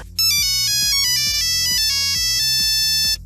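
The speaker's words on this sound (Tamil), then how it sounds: "நோக்கியா அப்படின்னோடனே நமக்கு அதோட கிளாசிக் ரிங்டோன் தான் ஞாபகம் வரும்" The classic Nokia mobile phone ringtone plays as a bright, clean electronic melody of quick repeated notes, loud and alone for about three seconds.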